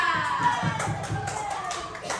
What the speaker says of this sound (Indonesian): tepuk tangan untuk Aditya, Arif Aditya